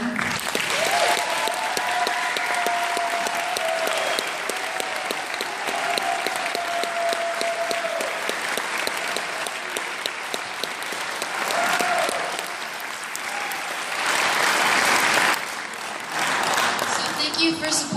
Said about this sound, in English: can we get another round of applause for Mr. Burton?